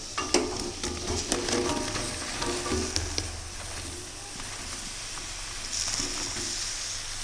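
Taro greens cook in a kadai with a little water, giving a steady bubbling sizzle with scattered scraping stirs and clatter near the start, then a quieter continuous hiss.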